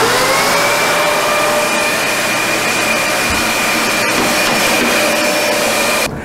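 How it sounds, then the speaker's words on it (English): A Dyson DC65 vacuum cleaner runs with its cleaning wand over an air conditioner, a loud steady whine and roar held close for about six seconds before cutting off sharply at the end; no one speaks. "now I'm taking here the cleaning wand of my Dyson DC65 and clean up everything what's left there"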